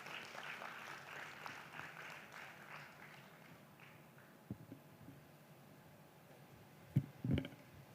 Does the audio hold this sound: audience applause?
yes